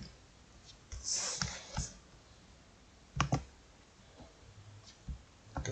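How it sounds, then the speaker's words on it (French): Computer mouse clicks on an OK button, a few quiet, sharp clicks scattered through a soft room tone, some in quick pairs, with faint background sounds between them. "je clique sur OK"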